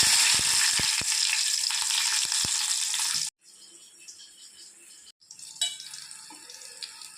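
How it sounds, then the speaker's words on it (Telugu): Green chillies frying in hot oil in a pot on a stove, giving a loud, steady broadband sizzle for about three seconds. The sizzle then cuts out, and quieter kitchen clatter and soft hiss follow. "పచ్చిమిరకాయలు అయితే బాగా వేగిపోయినాయండి"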